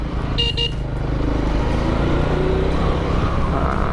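A Honda Karisma 125 motorcycle fitted with a 14/38 gearset and 428 chain accelerates in second gear on a road, a loud continuous engine drone with a brief horn-like toot near the start and traffic around.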